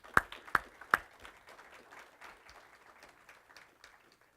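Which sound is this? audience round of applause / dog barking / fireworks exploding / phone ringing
audience round of applause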